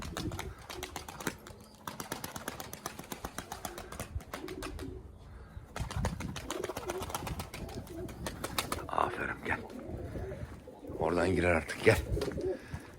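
Tumbler pigeons coo softly over a steady rapid clicking or tapping, with a burst of louder fluttering and calls near the end.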